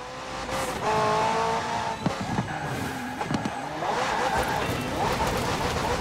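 A McLaren P1 GTR supercar with a twin-turbo V8 and electric motor accelerates in Forza Horizon 4, its engine rising in pitch through repeated gear shifts with tire squeal, loud and continuous.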